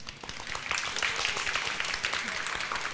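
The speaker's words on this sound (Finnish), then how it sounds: "Antakaa itsellenne isot aplodit." Studio audience applauding for itself during a Finnish game or quiz show after points are awarded, a dense steady wash of clapping throughout, fairly loud and continuous.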